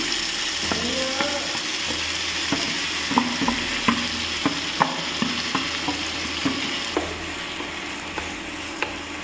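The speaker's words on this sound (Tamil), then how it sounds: "கிண்டி விட்டுக்கோங்க நல்லா." A lentil curry with onion cooks in a frying pan with a steady sizzle, while a spoon scrapes and taps the pan in repeated close clicks as it is stirred.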